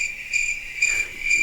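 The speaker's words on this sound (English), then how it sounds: "And I won't be needing my cricket sound" A cricket-chirping sound effect plays as a steady, high, continuous trill, pulsing slightly in loudness and heard alone without any voices.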